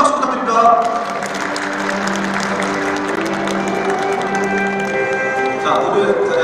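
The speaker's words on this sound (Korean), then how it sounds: "큰 박수 부탁드립니다." Audience applause fills the room at an alumni association chairman inauguration ceremony in Icheon, Korea, sustained crowd clapping with some cheering and murmured voices mixed in throughout.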